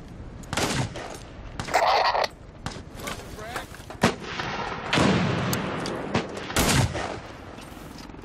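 An M16A4 DMR airsoft rifle fires during an outdoor skirmish, giving sharp, loud reports over steady background noise, with the shots spaced a couple of seconds apart.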